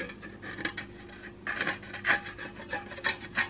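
MIG welds on a car body panel are hand-filed flat in short, rhythmic rasping strokes, close and fairly quiet, about eight strokes after a brief pause, with no talk.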